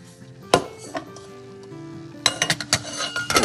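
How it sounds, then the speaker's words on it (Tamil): A metal lid clinks onto a pot of simmering garlic tamarind curry, followed a moment later by a cluster of lighter clattering knocks against cookware. "இதை மூடி வச்சு இப்போ சமைப்போங்க."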